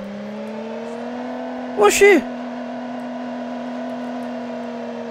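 A car engine in the BeamNG.drive racing game holds a steady, loud droning hum, broken midway by a short exclaimed word from a player.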